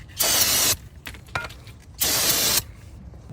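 Cleaner sprays onto a rear brake caliper of a 2012-2016 BMW 328i in two loud, close bursts of hissing aerosol, each about half a second long, with a little clicking and handling between them.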